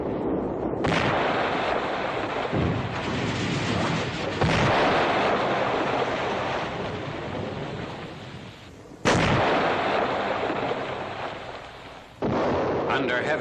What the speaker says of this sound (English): Under heavy enemy fire, combat engineers out on the incompleted span dash back to shore.